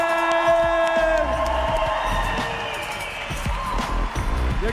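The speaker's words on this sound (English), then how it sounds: "Again, please big round of applause to Raul Urberg." A crowd cheers and whoops for a finalist at a live skateboarding finals event, a loud continuous roar with scattered shouts and some thumps.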